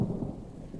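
Rain pours steadily in a video game while low thunder rumbles loud and close at the start, then eases into a continuous wash of rainfall with no talking.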